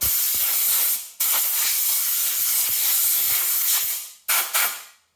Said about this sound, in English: I'm going to use a little compressed air and blast this out.